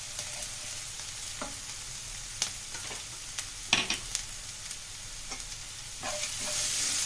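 Onion sautés in a pan for wheat rava upma, a steady soft sizzle with scattered spatula scrapes and taps, one cluster of clatter midway and rising hiss at the end, no talking.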